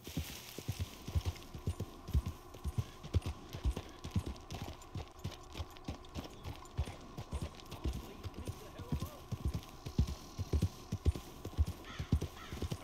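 Horse hooves clip-clop in a steady walking rhythm across the ground in Red Dead Redemption 2, close and evenly paced over a low background hum throughout.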